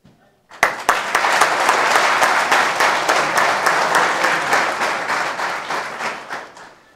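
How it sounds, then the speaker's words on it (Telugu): A church audience at a second-anniversary service breaks into loud, dense applause that starts suddenly, holds steady for several seconds, then tapers away. "దయచేసి ఒకసారి అందరు గట్టిగా చప్పట్లతో."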